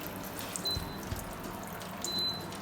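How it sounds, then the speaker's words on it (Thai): Water trickles faintly and steadily inside an evaporative air cooler fan after its swing function is switched on, a soft continuous flow with no talking. "มีน้ำไหลจริงๆด้วย"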